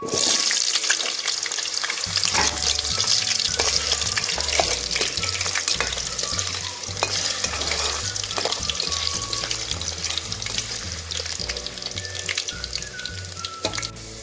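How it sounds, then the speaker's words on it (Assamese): Potatoes frying in a hot pan while being stirred, a steady loud sizzle running throughout with scraping stir strokes and occasional clinks, no talk. "আলুখিনি ফ্ৰাই কৰি লওঁ"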